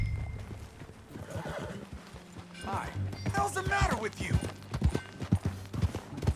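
Horse hooves clip-clop in Red Dead Redemption 2 as a horse walks and snorts, with a whinny partway through, while in-game characters talk over the steady hoofbeats.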